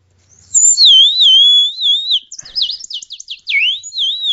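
A pajarito, a wind instrument made to imitate bird calls, whistles loud and close: a long warbling trill followed by quick rising and falling chirps, alone without talk.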